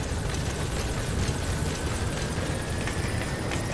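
A support helicopter in Metal Gear Solid V arrives as a steady, loud broadband rotor roar filling the whole stretch, with no voices.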